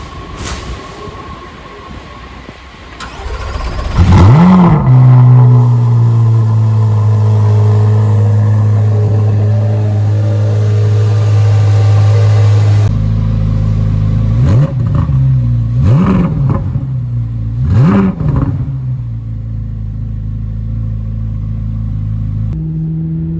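Freshly engine-swapped Chevrolet Corvette Z06 firing up for its first start: a loud crank and catch settles into a steady rumbling idle, followed by three sharp revs near the end, with no talk.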